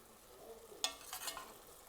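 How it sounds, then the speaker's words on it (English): A pot of Rotel tomatoes and bay leaves for a cabbage and jalapeño beef sausage dish is stirred, one sharp utensil tap followed by a soft scraping swirl over a faint background sizzle, quiet and brief. "We're going to give that a stir."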